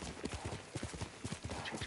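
Horse hooves clip-clop at a steady walking rhythm through the woods in Ghost of Tsushima, close and fairly quiet, against a constant ambient background.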